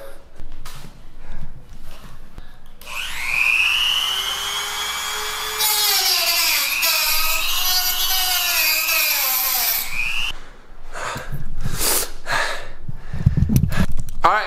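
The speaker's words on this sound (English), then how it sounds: "let's try to Dremel this shit up" A Dremel rotary tool cutting into a part during a chain-to-belt drive install on a Surron electric bike starts with a high, rising whine, then grinds loudly and steadily for several seconds before stopping, with brief handling noises before and after.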